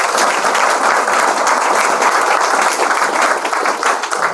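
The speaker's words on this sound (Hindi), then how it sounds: "ताली बजा दो" A large audience claps together in a steady, dense burst of applause at a Hindi-language gathering honouring a sub engineer, loud and sustained throughout with no voices standing out.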